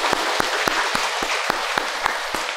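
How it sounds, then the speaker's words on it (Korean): A church congregation at a Sunday worship service claps together after a thank-you to the choir, accompanist and conductor: steady, fairly loud applause with sharp individual claps standing out at regular intervals across the room. "박수하겠습니다."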